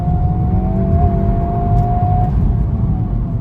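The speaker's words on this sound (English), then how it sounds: "Nice rev match." A sports car engine, either a Ferrari Mondial t coupe or a Honda Civic Type R, blips its revs for a downshift through a tight corner. It is a loud, close, steady drone with a faint whine running through it.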